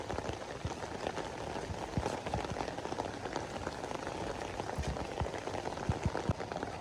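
Steady rain falls on a rural outdoor spot, a dense continuous patter with scattered heavier drops hitting nearby surfaces, with no talk.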